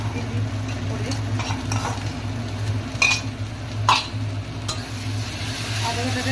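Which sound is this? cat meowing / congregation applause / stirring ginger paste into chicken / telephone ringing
stirring ginger paste into chicken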